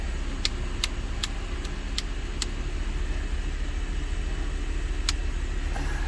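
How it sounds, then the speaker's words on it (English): A Honda Civic EF sedan idles steadily with all its electrical loads switched on, including brights and blinkers. The engine hums evenly up close, and sharp ticks recur at intervals over it. "And the idle under full load. I mean full load."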